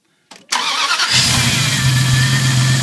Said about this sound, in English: then we'll be ready to fire this Dodge up